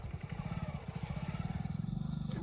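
A motorbike engine thumps in a fast, even pulsing rhythm close by as the bike rolls slowly along, fairly quiet and steady throughout.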